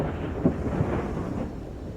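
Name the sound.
thunder from lightning during approaching rain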